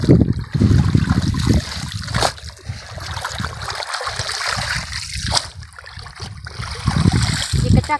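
Water flows in an unlined earthen canal with a close splashing and trickling rush that rises and falls, and there are occasional louder bursts.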